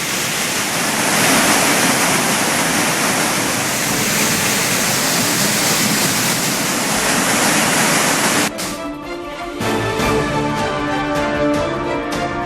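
Courtallam waterfall at its main and old falls roars loudly and steadily as a dense wash of falling water, then cuts abruptly to a fainter, more broken rushing sound for the last few seconds.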